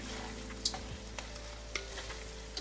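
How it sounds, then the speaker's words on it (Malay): Catfish fried with chili being stirred in a pan: a steady low sizzle with a few sharp spatula scrapes and clicks, fairly quiet and close, with no talking. "Kita gaul sikit ikan ini."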